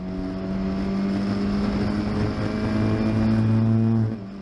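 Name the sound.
Historic Formula Ford race cars racing at Oulton Park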